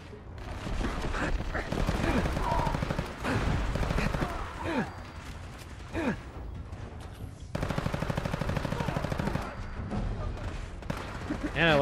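Enemy gunfire in the game Fallout 4, with rapid bursts of automatic shots and sustained fusillades that repeat in loud waves, briefly pausing before opening up again.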